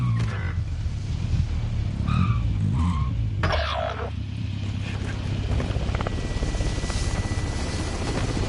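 A car in a PS4 shooter game drives and skids, engine rumble and tire noise under a helicopter-like drone, loud and continuous with a sharp shift midway.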